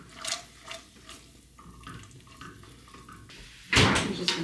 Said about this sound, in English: I'm just gonna stir this really quickly.